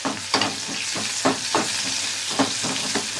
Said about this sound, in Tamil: எண்ணெய் காஞ்சிட்டு கடுகு போட்டுக்கிறோம் கடுகு வெங்காயம்